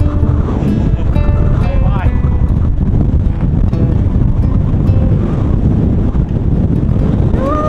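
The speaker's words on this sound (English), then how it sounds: "The wind is intense, gale force winds, very cold" Gale-force wind on a cold mountain summit in the Klein Swartberg range buffets the microphone with loud, constant rushing and roaring, while a person talks close by throughout.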